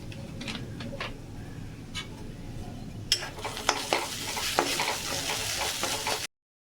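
Bhola fish pieces fry with dried chilli powder in a pan, a close sizzle with light scrapes that turns into busier, repeated stirring knocks and clinks of a spatula in the second half.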